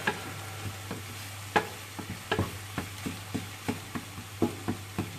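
Fresh bacon frying in a pan, a steady low sizzle with repeated soft spits and crackles popping every half second or so, close by with no talk.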